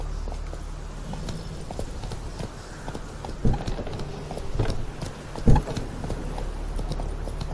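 Roach the horse's hooves clip-clop in a steady walking rhythm in The Witcher 3: Blood and Wine, close and continuous over a low ambient rumble, with a few heavier thuds.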